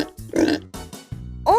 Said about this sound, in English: A pig makes a Oink.